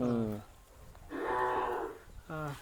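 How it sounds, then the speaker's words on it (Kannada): A Hallikar cow moos three times nearby, two short calls and one longer drawn-out low, fairly loud against a quiet background. "ಇದು ಈ ಕರು ಈ ಕರು ಗೊಂಬೆ ಮಗಳು"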